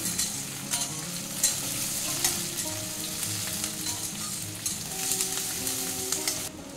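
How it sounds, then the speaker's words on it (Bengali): Onions and nuts fry in a pan for paneer, giving a steady close sizzle with light stirring scrapes throughout and no talking. "দেখুন পেঁয়াজটা হালকা ভাজা হয়ে গেছে, একটু নরম করে নেব খালি।"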